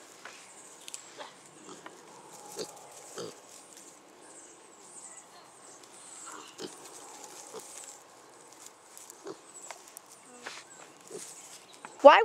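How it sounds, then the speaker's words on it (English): Pigs shuffle and grunt nearby in an outdoor pen, with soft footsteps, scattered snorts and faint birds in the background, ending on a sharp squeal. "looks like the pigs like Kevin"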